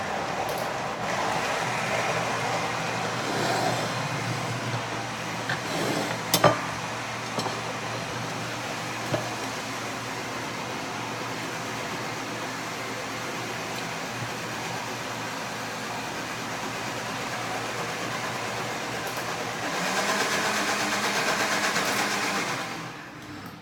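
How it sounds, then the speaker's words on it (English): A blender blending gravy whirs continuously at close range, a steady loud grinding drone that swells slightly near the end before cutting off. "So I'm going to put that right in my blender."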